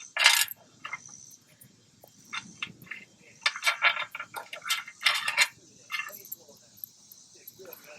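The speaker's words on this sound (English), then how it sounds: "get our hardware out here where we can see our parts and pieces" Metal hardware, U-bolts and serrated nuts for a Ferris FW15 mower fitting, is handled close up in a run of light clinks and rattles, some sharp and bright, with brief pauses and no talking.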